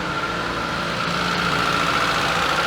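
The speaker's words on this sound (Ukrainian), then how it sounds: "зараз включу запалювання. Заведемо і подивимось, що воно тут." A ZAZ Sens car engine idling after starting, a steady close mid-pitched hum with faint vibration and no voices.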